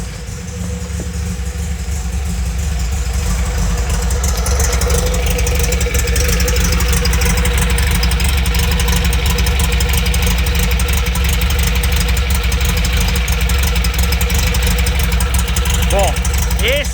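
Modified air-cooled engine with a dual-inlet cylinder head on a supercharged 1200 idling nearby, a loud, steady, continuous rumble with a fast, even pulse lasting the whole stretch.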